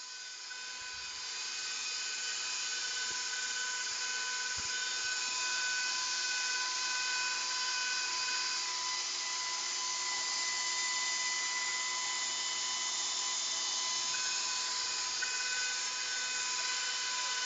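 An electric pasta machine cuts spaghetti noodles for a homemade chicken Parmesan dinner, its steady high-pitched motor whine running continuously and fairly loud with no talking.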